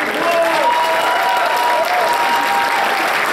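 A convention audience at a furry-con improv comedy show breaks into loud, sustained applause, dense clapping with a few whoops and cheers throughout.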